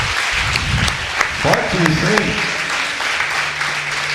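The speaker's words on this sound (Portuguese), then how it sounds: "Você pode aplaudir Jesus por essa palavra?" A church congregation claps during a sermon, a broad wash of applause under a preacher's voice speaking in Portuguese.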